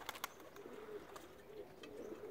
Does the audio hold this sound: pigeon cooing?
yes